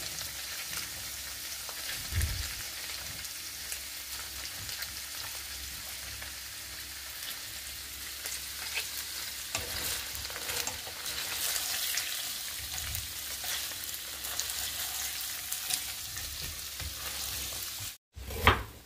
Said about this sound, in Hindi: शॅलो फ्राय करूया.